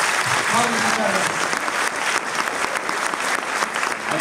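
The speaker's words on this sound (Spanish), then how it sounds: "Así que les pido otro aplauso para ella." A theatre audience at a staging of The Vagina Monologues applauds an actress, continuous crowd clapping that stays full and fairly loud, with a brief voice murmur near the start.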